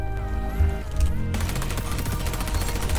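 MP7 submachine gun fire in XDefiant, a fast, loud continuous burst of rapid shots running through the whole short stretch, with no talking over it.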